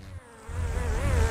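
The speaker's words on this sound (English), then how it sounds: "Buzz off, fly!" A fly buzzes loudly and close in a backyard scene, a steady droning hum that wavers in pitch as it moves, with a brief dip near the start.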